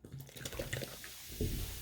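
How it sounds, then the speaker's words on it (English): Vinegar is poured onto baking soda in a small tray, giving a soft, continuous liquid trickle with fizzing and bubbling that stays faint and close throughout. "Let's pour the vinegar in."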